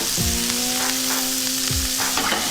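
Shrimp and shallots sizzle loudly in a hot pan for a New Orleans–style BBQ shrimp dish, a steady close frying hiss broken by two sharp clattering knocks as the shrimp are turned, with no talking.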